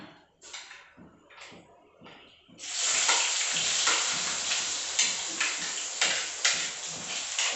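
Onion, ginger, garlic, tomato, green chili and curry leaves tipped into hot oil: a few soft thuds and short hisses, then a loud, sustained close sizzle with occasional sharp ticks of stirring.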